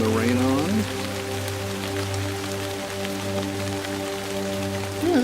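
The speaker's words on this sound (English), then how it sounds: "And turn the rain on." Steady rain from the weather effect in the virtual-reality nature game Nature Treks VR hisses evenly throughout, with a few bird chirps at the start and end over a low ambient drone.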